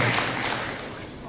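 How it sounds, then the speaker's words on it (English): Audience at a mental health and wellness summit applauding, a dense, steady wash of clapping that fades slightly toward the end, with no voices over it. "Could we give them a round of applause?"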